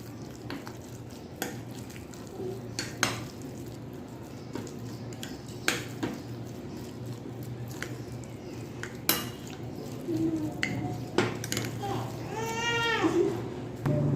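Chicken wonton filling with white pepper, black pepper and soy sauce is stirred in a bowl, giving repeated clinks and scrapes of a utensil against the dish, with soft voices in the background.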